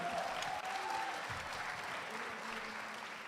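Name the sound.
audience applause at a debating championship closing ceremony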